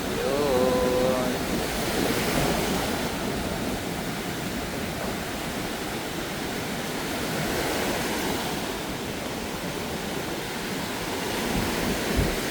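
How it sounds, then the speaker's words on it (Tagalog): Strong wind roars steadily against the microphone over a constant wash of surf on a Boracay beach, loud and unbroken throughout. "malakas yung hangin"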